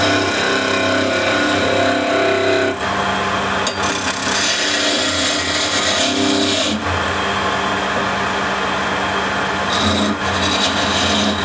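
A hand plane cutting Osage orange wood for a carver's mallet, producing loud, continuous rasping cuts at close range, with brief breaks between long strokes.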